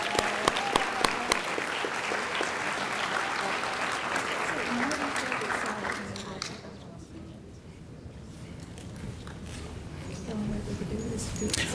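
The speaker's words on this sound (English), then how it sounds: "let's give a round of applause to all of our special award winners" Applause from a crowd at a science fair awards ceremony, dense clapping that stays strong for several seconds and then thins out into quieter scattered claps, with birds cooing nearby.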